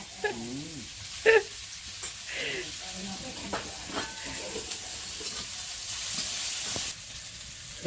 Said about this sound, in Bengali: পাঁচ ফোড়ন দিই